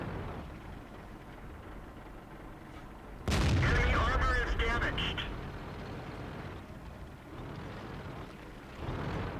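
A tank cannon fires in the online game World of Tanks, one sudden loud blast followed by a rumbling decay over low engine noise; someone talks through parts of it.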